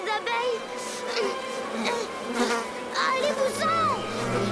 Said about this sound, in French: Oh, des abeilles!